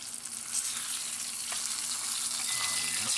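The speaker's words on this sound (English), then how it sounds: "Fried fish." Fish frying in hot oil in a home kitchen, a steady close crackling sizzle with faint spatters and a light scrape partway through, no talk.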